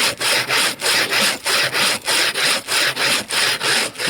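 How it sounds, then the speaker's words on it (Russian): A bow saw cuts through wood in steady back-and-forth strokes, about eleven rasping pulls in even rhythm, close and loud, in a frozen taiga camp at minus fifty. "Вот, лучковая пила."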